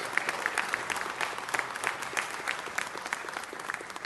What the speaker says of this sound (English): Let's give Ted a round of applause.